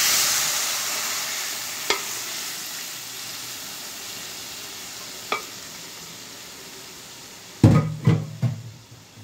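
Red lentils (masoor dal) dropped into a hot spiced pan for a bhuna-style dal, giving a steady faint sizzle with a few sharp clinks, then a louder burst of scraping and stirring near the end.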